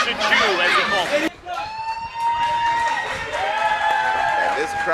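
A crowd at a live professional wrestling event cheers after a save, a loud roar that swells and holds steady. A close commentator talks over it at the start before the crowd noise takes over.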